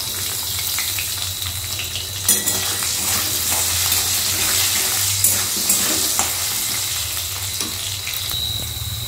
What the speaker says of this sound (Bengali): তাই আলুটা আগে একটু ভেজে নেব, আর ভাজার সময় তো দিয়ে দেবো সামান্য একটু লবণ